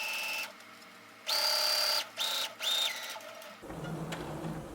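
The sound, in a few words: sewing machine stitching fabric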